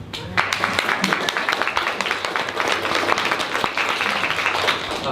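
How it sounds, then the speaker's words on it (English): An audience at a panel event in Hong Kong applauds the presenters, a loud, close, dense patter of many hands clapping continuously throughout. "they deserve another round of applause"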